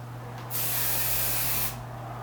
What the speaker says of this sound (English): I'm gonna spray these two individual pieces so that one doesn't fall anymore.